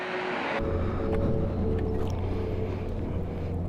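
A motorcycle engine catches and settles into a steady, close idle after a brief moment of wind-buffeted background, running continuously and loud with no talking.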